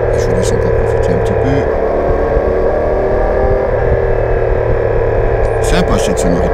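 A CF-Moto MT450 motorcycle's twin-cylinder engine drones steadily and loudly while the bike is ridden, holding a constant pitch with a continuous hum and only slight changes in tone.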